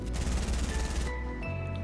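Rapid automatic gunfire from the video game Fortnite rattles in a fast, loud burst for about a second, then cuts off, leaving a few sustained game tones over a low hum.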